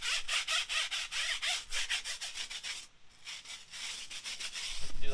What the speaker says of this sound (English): We're just going to scrub using the same pattern again.